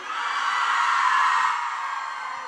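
A concert crowd screams and whoops together in one sustained, loud burst, swelling and then easing slightly, with no talking over it.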